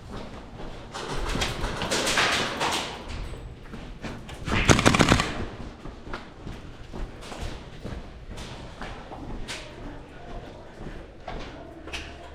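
Bursts of HPA-powered Saiga airsoft gun fire during an outdoor airsoft game, rapid snapping shots with a louder close burst in the middle amid steady background noise, and a bird cooing faintly behind.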